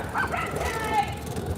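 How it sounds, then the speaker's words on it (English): Dogs bark outside, somewhat distant and muffled under a person talking close by. "Got the dogs barking."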